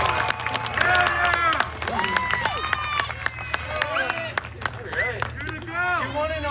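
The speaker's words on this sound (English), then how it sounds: "You can clap too if you want." An audience claps in scattered, uneven bursts while a voice keeps talking loudly over it, with a low steady hum underneath.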